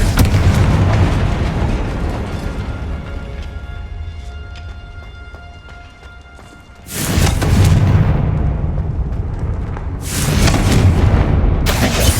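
Booming Confringo fire-spell explosions in the Hogwarts Legacy video game, a loud broadband blast opening the clip, another bursting in around seven seconds, and a third near ten seconds, with rumbling decay between them.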